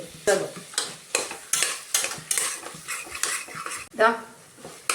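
Onions and tomatoes sautéing in a pan for biryani, with a steady sizzle beneath a rapid series of loud metal spoon scrapes and clanks against the pan, while a voice talks faintly in the background.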